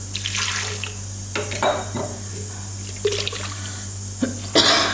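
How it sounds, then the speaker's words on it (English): Water run into a blender jar to rinse out leftover masala while making vegan peanut milk kadhi, sounding as a few close, short splashing bursts separated by quieter gaps over a steady low hum. "So I put some water in the blender jar and then put it inside."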